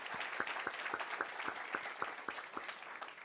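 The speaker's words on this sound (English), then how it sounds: "Give yourselves a round of applause." Audience members at a town hall meeting in Montgomery, held by Mayor Steven Reed, clap together in a brisk, steady round of applause, with individual claps distinct and fairly close.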